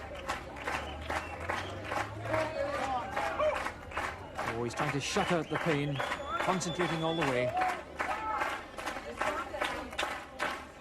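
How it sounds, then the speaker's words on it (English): A large crowd at a 1989 World's Strongest Man event cheers and claps under a commentator's steady talk, a moderate, continuous roar of encouragement throughout. "Great encouragement from the big crowd"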